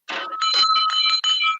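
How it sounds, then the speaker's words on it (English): A hand bell rung while walking the streets clangs rapidly and loudly close by, a run of bright metallic strokes with ringing overtones and no voices. "I was inspired to get a bell and ring it out as I walk the streets from Kittle to Kingston"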